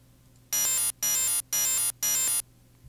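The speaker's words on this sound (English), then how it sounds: "You can see the white noise getting worse." Four harsh, buzzy FM8 synth bursts in a steady rhythm, bright and noisy with a gritty white-noise hiss layered over a sawtooth tone.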